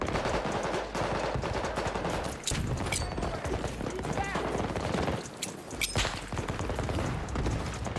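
Sentry turrets in Battlefield 2042 fire rapid bursts of automatic gunfire, continuous and loud, with sharper cracks and distant shots layered through a busy battle soundscape.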